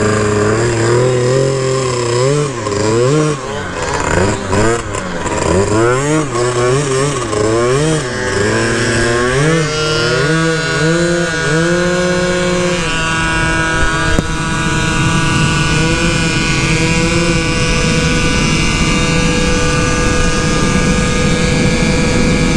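A 1989 Honda Dio Elite scooter with a big bore stroker kit and AF16 engine swap running loud and close, its small two-stroke engine revving up and down repeatedly before settling into a high, steady buzzing drone.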